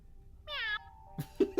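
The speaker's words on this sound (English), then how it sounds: "There's a cat. Kitty kitty?" In the video game Alone in a Room, one short, clear cat meow sounds close up, followed by a few soft thumps and bumps.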